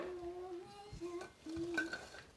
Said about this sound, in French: Bon, fait qu'on va mélanger.